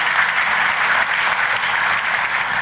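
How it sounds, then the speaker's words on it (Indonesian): A church congregation claps enthusiastically during a sermon, steady loud applause ringing through the sanctuary without a break. "Tepuk tangannya yang paling meriah buat Tuhan kita."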